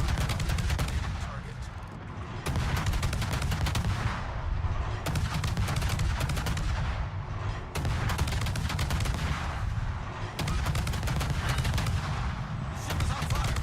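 Naval guns firing shells in World of Warships, heavy rapid booms in repeated bursts of salvos, loud and close, with brief lulls between volleys and continuous gunfire texture.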